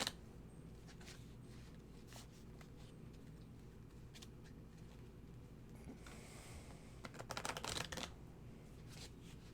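A deck of Lenormand cards being shuffled by hand during a tarot reading, with soft repeated riffling and shuffling that grows louder and busier toward the end, close and without speech.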